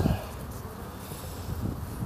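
Honey bees buzz around an opened wooden hive box in which food stores are nearly gone, a steady low insect hum that swells at the start and again near the end.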